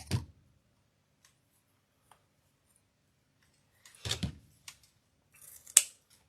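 Adhesive tape is pulled off while a wreath is being made: short rasping tears at the start and again around the middle, then a sharp click, separated by near silence and no speech.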